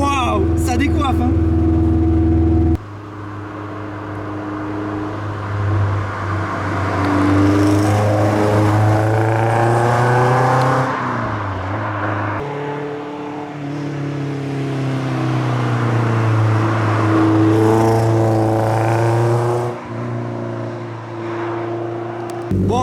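Caterham sports car with a BDA engine driving, its engine droning and revving up and down loudly and close, with people talking over it.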